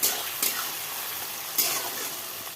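Meat sautés in a pan with chopped onion, tomato and spices, a continuous soft sizzle with a couple of sharper stirring scrapes breaking through.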